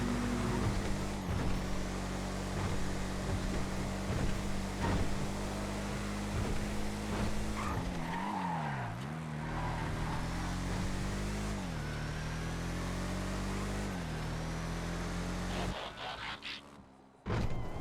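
Ordinary car engine in GTA FiveM, driven through Blaine County at sunset: a steady mid-pitched drone with a few rising and falling revs, cutting out briefly near the end.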